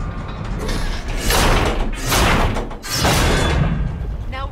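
A heavy stone axle mechanism in the God of War video game grinds and creaks as it is pushed into place, with loud rumbling scraping surges that rise and fall in waves.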